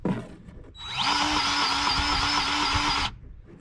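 A DeWalt 20V cordless grease gun motor whirs steadily for about two seconds with a high mechanical whine and a rhythmic pulsing, close and loud, then stops abruptly.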